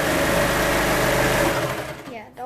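A sewing machine stitching a T-shirt runs in a fast, continuous whir for about two seconds, close and fairly loud, then slows and stops as a voice begins.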